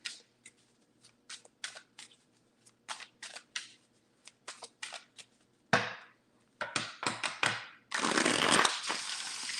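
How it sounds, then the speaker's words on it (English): Tarot cards being riffled and tapped in quick bursts, a series of short crisp flicks building to a louder continuous shuffle at the end. "That's a small shuffle"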